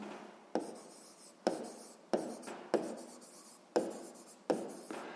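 A pen writes a math solution on paper in a series of close, faint scratchy strokes. Each stroke starts with a sharp tap and fades out, repeating about every second.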